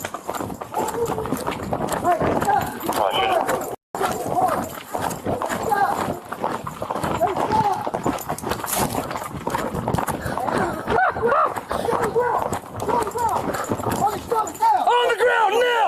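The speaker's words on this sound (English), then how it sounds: "I have a narcotic smelling horse right here." Horse hooves clip-clop in a rapid, continuous rhythm during a police pursuit, close and busy under almost constant shouting and talk, with a brief dropout partway through.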